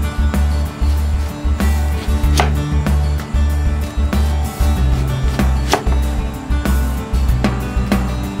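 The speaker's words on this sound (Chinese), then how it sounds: "洋葱呢已经腌好了，这样切呢就不辣眼了" A knife chops marinated onion on a cutting board in a home kitchen, a run of close, sharp knocks at an uneven, brisk pace over a low background hum.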